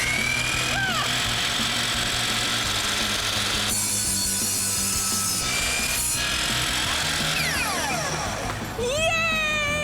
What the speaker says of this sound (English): Bring it down and cut your hammer and hold on tight to that hammer.